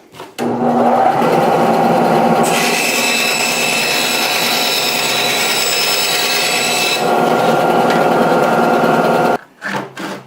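A kydex sheet is cut for a custom knife sheath, giving a loud, steady mechanical whir that runs nearly nine seconds without a break before stopping abruptly, with no talking.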